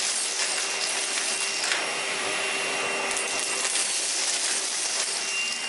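A Henry cordless HVB160 vacuum on its high setting sucks up debris from carpet, a steady broadband whoosh lasting throughout with faint scattered clicks and rattles of bits being drawn in.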